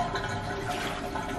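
Running water pours steadily over a dog's coat during a bath, rinsing dirt away in a continuous close splash with no talking.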